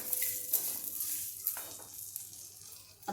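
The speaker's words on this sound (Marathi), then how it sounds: "आता याला छान मिक्स करतोय. आपली फोडणी चिवड्याची तयार झाली आहे" Chivda tempering with chili flakes and black pepper being stirred in a pan, giving a steady soft sizzle with scraping stirs, fairly quiet and alone.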